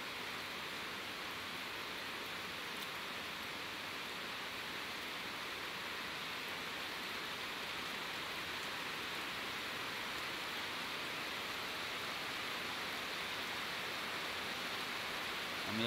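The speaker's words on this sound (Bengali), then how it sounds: "বাইরে প্রচুর বৃষ্টি হচ্ছে" Heavy rain pours steadily outside a house, a dense, even hiss that stays constant and fairly faint throughout with no voices.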